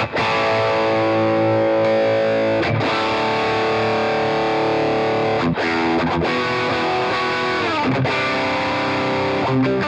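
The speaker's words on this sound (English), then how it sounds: "So let's hear how this pedal works as that little extra boost to use as a lead tone." A Great Eastern FX Design a Drive pedal boosts a Matchless Independence 35 amp into a lead tone, giving continuous, loud overdriven guitar chords and notes with a few short breaks, sustaining steadily throughout.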